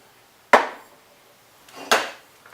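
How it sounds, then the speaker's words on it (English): Two sharp cuts through a pipe for a K24-swapped MR2 intercooler, each a loud percussive bite that rings and fades, spaced about a second and a half apart with no talk. "I'm about to cut off this little angle right here and use this straight on my intercooler pipe"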